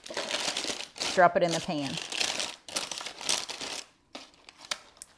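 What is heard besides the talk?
parchment paper crinkling as edges are folded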